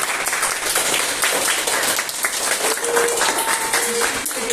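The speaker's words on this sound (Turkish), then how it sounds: "arkadaşlarınızı alkışlayın." Dense applause from a crowd of children, a steady patter of many hands clapping continuously, fairly loud and close.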